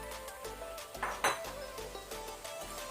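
Fried cauliflower is tipped into a pan of cooked green peas, giving a few close metallic clinks and scrapes of a spoon against the pan over a quiet sizzle.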